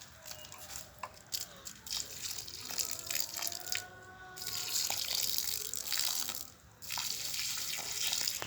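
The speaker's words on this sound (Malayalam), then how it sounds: "ഇനി എൻ്റെ അനിയ വെള്ളം ഒഴിക്കട്ടെ" Water poured onto a newly planted Lakshmi taru sapling outdoors, a steady trickling and splashing that runs through most of the stretch with a brief pause, fairly faint against the open-air background.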